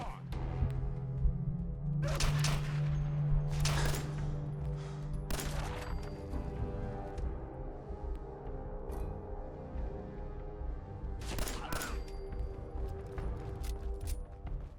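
Shotgun blasts in Fallout 4 at an early-game location, several sharp broadband reports spread irregularly across the stretch over a steady low game hum and tonal music, moderately loud.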